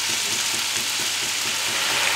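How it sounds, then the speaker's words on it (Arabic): Chicken pieces fry in heated olive oil in a pan with a steady, dense sizzle that holds even and close throughout, with no talk over it. "خديت مقلاه درت فيها شويه ديال زيت الزيتون كتسخن"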